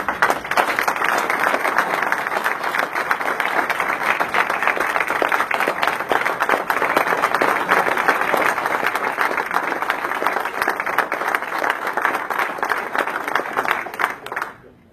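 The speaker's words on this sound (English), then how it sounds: "I'd like you to share with me a round of applause for Vernon's year" An audience at a Rotary club meeting applauds, giving dense, steady clapping that holds for about fourteen seconds before fading out abruptly. The applause is loud and sustained, with no talking.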